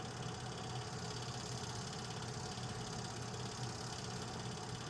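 Nickel Plate 765, a steam locomotive, sits idling during a 1982 freight meet, giving a dense, steady low rumble and hiss at moderate distance with no clear rhythm and no voices.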